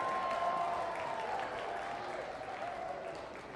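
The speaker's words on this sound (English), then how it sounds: "Getting a nice round of applause and also reveling in his moment." Steady applause from a baseball crowd at a Virginia college game, cheering a fan's catch in the stands, a broad sustained clapping roar that slowly fades slightly, with no talking over it.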